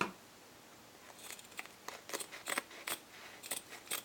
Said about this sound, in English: let's trim this off